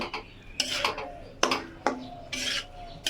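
Spinach and potatoes are stirred in a pan with a utensil, giving repeated close scraping and rasping strokes against the metal, about five distinct sweeps in an uneven rhythm, with no talking.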